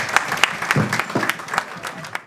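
An audience claps in welcome at an International Women's Day event and media launch, a short burst of dense, close applause that holds steady for a couple of seconds before cutting off.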